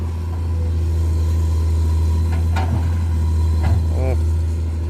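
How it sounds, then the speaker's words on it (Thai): Komatsu PC200-8 excavator with a six-cylinder Komatsu engine running at a steady idle, a loud continuous low rumble throughout, with a few brief mechanical clanks and a short whine near the end. "เครื่องยนต์หกสูบครับ"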